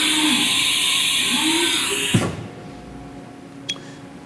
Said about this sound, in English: where you're simulating a tool change right now